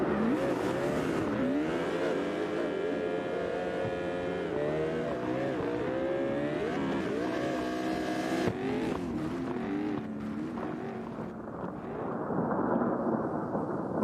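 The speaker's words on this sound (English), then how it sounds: "Squid's got the Miata out too" Mazda Miata driving on a track during tire setup testing, its engine note rising and falling steadily through continuous revving with brief tire squeal, loud and close throughout.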